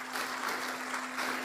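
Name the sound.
applause for the doctoral promoter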